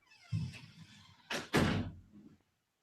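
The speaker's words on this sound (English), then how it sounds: "The door keeps opening and closing." A door opens and shuts indoors, giving a soft bump, then two heavy thuds in quick succession, fairly close against an otherwise quiet room.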